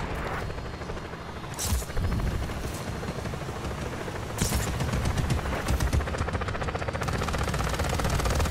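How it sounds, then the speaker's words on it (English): A helicopter in the video game Just Cause 4 whirs with a fast, steady rotor chop, broken by short bursts of gunfire and one or two sharp bangs, all without speech. "Helicopter inbound."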